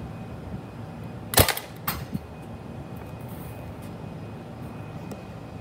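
Glock 17 gen 3 BB gun fires outdoors, one sharp nearby crack followed by a couple of fainter snaps, against steady background noise with no talking.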